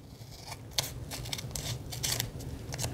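Scissors cutting through a piece of paper: a quick run of crisp, close snips and rasping slices, evenly spaced over a few seconds with no talking.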